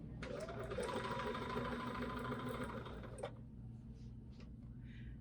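A sewing machine stitches a quilt with mitered corners, running in a steady, fast mechanical whir for about three seconds, then stopping to leave faint handling noises in a quiet room.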